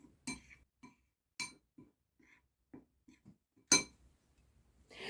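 A utensil mixes dry cake ingredients in a bowl for a chocolate New Year's cake, giving quiet scattered scrapes and taps with a few sharper clinks against the bowl, separated by near silence.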